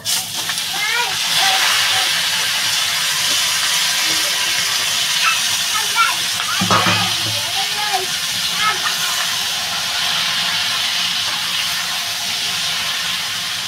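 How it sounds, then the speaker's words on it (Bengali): Chopped bottle gourd with slit green chillies hits a hot pan, sending up a broad, steady steam hiss that holds for the whole stretch, with a few faint clinks and someone talking over it. "আমি এবার লাউটা ঢেলে দেবো।"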